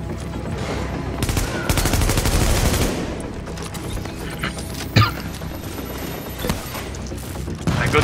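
Dense, loud gunfire in a video game battle with snipers shooting from upstairs, rapid volleys and scattered individual shots rattling throughout, one sharp louder crack standing out midway.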